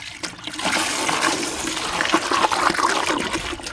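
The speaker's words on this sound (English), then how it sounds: "water hose and rinse this out really quick" Water gushing from a garden hose into a fountain basin in a small garden, a loud, steady rushing splash that runs close and unbroken, alone without talk.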